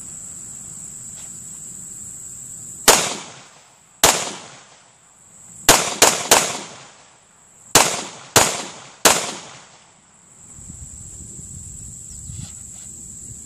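Seven sharp shots from an M&P9c pistol fired at a target outdoors, loud and close and spaced irregularly with short echoing tails, over a steady high insect chirr.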